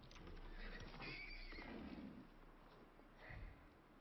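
A horse in the survival video game Icarus gives a drawn-out neigh and snort, with soft hoof clops around it and a second short whinny near the end, all fairly quiet and with no talk.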